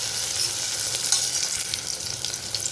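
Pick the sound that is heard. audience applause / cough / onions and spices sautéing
onions and spices sautéing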